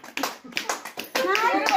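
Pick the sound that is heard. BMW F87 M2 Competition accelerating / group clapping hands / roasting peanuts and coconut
group clapping hands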